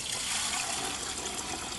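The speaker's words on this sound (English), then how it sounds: "I have to add some water over top of it and just let it sit immersed" Water is poured over slaking lime for fresco plaster, a continuous rushing, splashing pour that stays steady and fairly close, with no voices.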